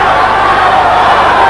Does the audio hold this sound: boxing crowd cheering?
yes